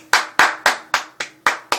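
Seven sharp hand claps in an even, moderately quick rhythm, each crisp and close with a short decay, heard alone with no talk.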